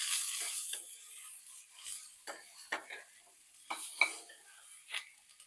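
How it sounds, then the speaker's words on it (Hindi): Capsicum, onion and other vegetables stir-fried in a pan for appe, with a soft steady sizzle broken by several sharp scraping strokes of a spatula against the pan. "थोड़ा सा प्याज चलाने के बाद अब हम इसमें डालेंगे एक एक करके अपनी बाकी वेजिटेबल्स को।"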